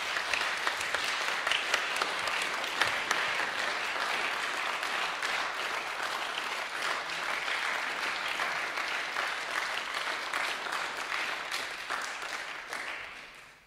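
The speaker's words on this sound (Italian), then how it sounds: "Fategli davvero un applauso." Long, sustained audience applause at an awards concert for prize winners, steady dense clapping filling the hall for about fourteen seconds before tapering off at the end.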